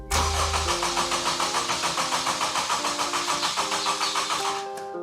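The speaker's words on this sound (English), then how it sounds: "it's cranking over. It's not firing." Supercharged Honda Civic Type R engine cranking over on the starter without firing, a loud steady rhythmic churn of repeated compression pulses lasting several seconds before stopping.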